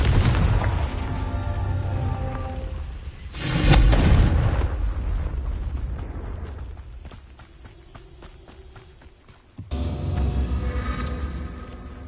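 A Confringo fire-blast spell in Hogwarts Legacy on PS5 lands as a loud, rumbling explosion burst, followed by a softer stretch and a second heavy blast, all set against dense game music and ambience.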